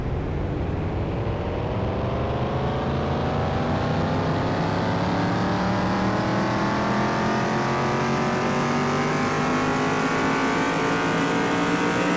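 A car engine in Car Mechanic Simulator 2021 revs steadily upward on a dyno, fitted with two mufflers, a continuous loud mechanical drone climbing in pitch for the full stretch with no pauses.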